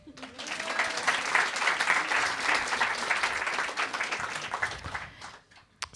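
A studio audience applauds in a dense, steady burst of clapping for about five seconds before it thins out and fades.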